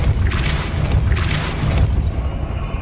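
A Depulso force spell cast in Hogwarts Legacy: two heavy booming whooshes about a second apart, each with a bright burst on top of a low rumble, loud and close with no talking.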